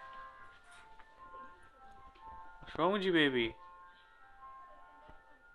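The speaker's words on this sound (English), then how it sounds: "he's actually dancing to the ice cream truck" An ice cream truck's tinkling jingle plays faintly outside, steady under a voice indoors, with a brief loud vocal burst partway through.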